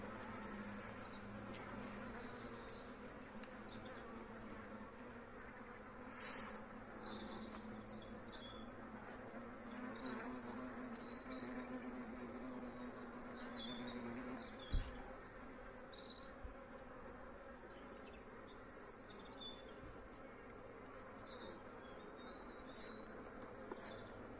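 Dense, continuous buzzing of many bees close by at an apiary hive, a steady droning hum with individual insects darting past, plus one brief knock.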